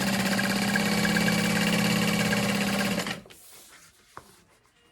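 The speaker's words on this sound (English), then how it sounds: "so for the bottom, I'm only sewing about 1 inch" Sewing machine stitching a vinyl storage bin, a steady loud mechanical whir for about three seconds that stops abruptly, followed by quiet handling noise and a single sharp click.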